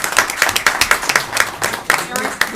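A brief round of applause at a school board meeting, fairly close and crisp, with individual claps pattering in a quick uneven rhythm for a couple of seconds.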